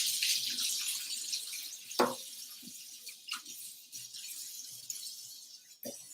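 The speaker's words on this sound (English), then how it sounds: "Let me rinse these off right quick." Green onions are rinsed under a running kitchen tap, a soft steady hiss of water with a few sharper splashes and knocks as the stalks shift in the stream.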